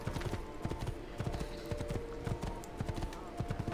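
A horse galloping in Assassin's Creed 2, its hooves pounding in a quick, steady clip-clop that runs close and prominent throughout, with a faint voice underneath.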